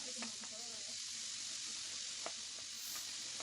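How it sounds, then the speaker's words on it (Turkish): Beef pieces pan-roasting on a sac griddle for sac kavurma give a steady close sizzle and crackle, with occasional sharper pops and faint stirring clinks throughout. "yeniden koyduklarımı ortaya koyup tekrar kavuruyorum"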